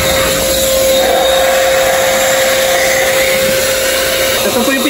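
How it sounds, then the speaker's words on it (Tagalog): Washing machine running: a loud, steady motor drone with a constant hum throughout, close and unbroken. "Washing machine."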